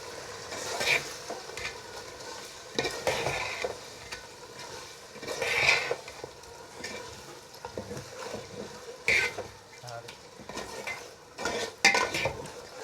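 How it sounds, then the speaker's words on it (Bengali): Mutton biryani masala with tomato paste frying in a pan, a low soft sizzle broken by intermittent stirring scrapes and light clinks, close but quiet. "এখন এটা আর একটু ভেজে নিব।"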